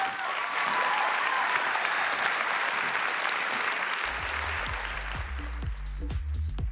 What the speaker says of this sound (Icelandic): Endilega klappi fyrir Klöru Hrund.